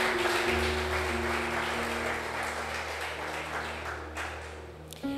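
A church congregation applauds during an evening service, a broad wash of clapping under a sustained low organ or keyboard drone, gradually fading near the end before a brief sharper sound.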